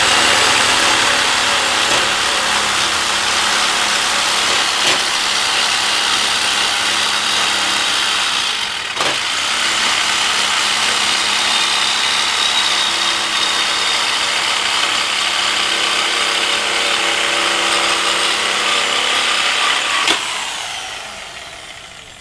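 A saw cuts through a car's exhaust pipe with a loud, steady, harsh grinding that runs unbroken for about twenty seconds before stopping abruptly, with no voices.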